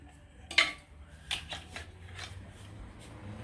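A few sharp clicks and plastic-and-metal rattles as the side handle of a Bosch 1375A 4-1/2-inch small angle grinder is swapped over, fairly quiet and close, with softer fumbling sounds between them.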